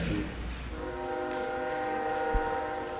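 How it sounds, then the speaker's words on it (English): A passing train rumbles steadily nearby while its horn sounds as a sustained, loud tonal blast throughout, heard during a city council meeting with no talk over it. "You do something about that train?"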